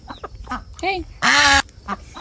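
Farmyard ducks quack in short bursts, with one long, loud honking quack in the middle, while chickens are being let out in the morning and people speak briefly in between.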